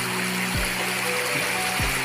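A Filipino river that floods, flowing as a steady broadband rush close by, with a couple of brief low thumps cutting through the continuous water noise.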